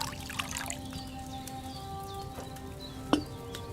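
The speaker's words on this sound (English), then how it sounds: "So, what did you pour in there? Wine, of course." Wine pours from a pitcher into a cauldron in Kingdom Come Deliverance II, a quiet trickling stream under a faint game ambience with birds and a soft clack near the end.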